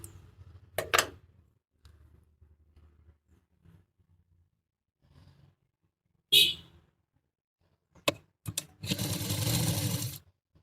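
A sewing machine stitches the neckline strip of an A-line gown in a few short bursts with scattered clicks and handling noise, ending in a longer, louder run near the close.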